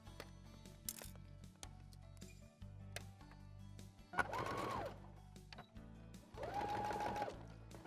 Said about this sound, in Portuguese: Vou na máquina de costura